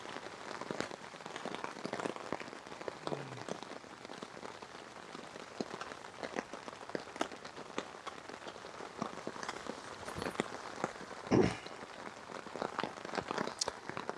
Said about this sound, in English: Enjoying being under the tarp with this rain.